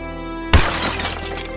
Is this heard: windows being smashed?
yes